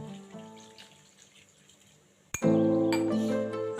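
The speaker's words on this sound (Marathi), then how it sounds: "हवं तेवढं पाणी घालायचं" Water pours into a pot of crab curry, a sudden loud gushing stream that starts partway through after a quiet simmering background.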